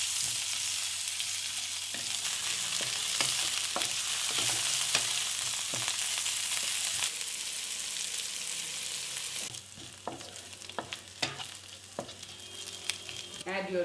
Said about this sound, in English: Fry them until the onions are cooked.